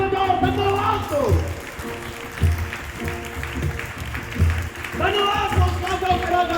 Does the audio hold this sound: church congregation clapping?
yes